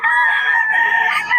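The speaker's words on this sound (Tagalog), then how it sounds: "ang gulo ng manok." A rooster crows close and loud in one sustained, strained call that lasts just over a second.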